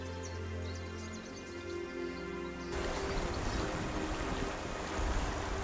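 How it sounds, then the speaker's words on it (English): Tongling Waterfall in a karst canyon of southwest Guangxi pours with a constant broad, hissing rush of splashing water, growing rougher and fuller midway, with no voices. "The chirping bugs, the singing birds, and the splashing waterfall make up the harmonious world down here."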